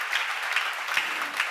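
Audience at a church seminar on the Gospel of John applauding, a moderate, even wash of many hands clapping at a slight distance.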